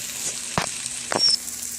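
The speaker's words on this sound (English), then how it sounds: "we're going to go ahead and cook them until the tomatoes are soft" Chopped onions and tomatoes fry in a pan with a soft, steady sizzle, broken by a couple of brief louder stirring scrapes, close by and with no talking.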